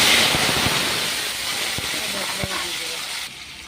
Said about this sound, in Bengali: রসুন ফোড়ন দিয়ে দিলাম